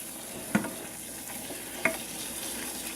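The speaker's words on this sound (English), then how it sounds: "Then add the flour into the melted butter and stir it until the butter is well mixed with the flour." Flour stirred into melted butter in a pan for scalloped potatoes, giving a soft steady sizzle with two brief utensil knocks against the pan and no talking.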